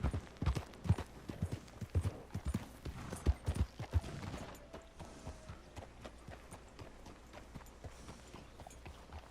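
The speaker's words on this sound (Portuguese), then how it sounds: "Olha o tamanho do cavalo" Rapid clip-clop of horse hooves in Red Dead Redemption 2, loud and rhythmic at first, then fading and slowing into softer, scattered steps.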